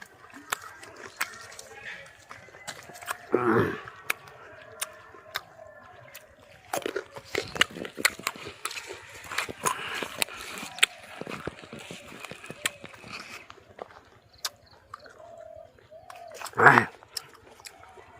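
Local jujube fruit bitten and chewed up close, sharp crunchy snaps and wet chewing in irregular bursts, with a person talking in between.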